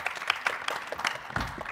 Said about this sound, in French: Merci, on peut applaudir bien fort, Monsieur Gossin.